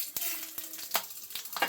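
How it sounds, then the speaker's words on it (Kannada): Chana dal, urad dal, mustard seeds and green chillies tempering in overheated oil, giving a strong continuous sizzle with repeated sharp spatters and crackles close by. "ಕಡಲೆಬೇಳೆ, ಉದ್ದಿನಬೇಳೆ, ಸಾಸಿವೆ, ಹಸಿಮೆಣಸಿನ್ಕಾಯಿ ಹಾಕ್ತವ್ರೆ ಒಗ್ಗರಣೆಗೆ"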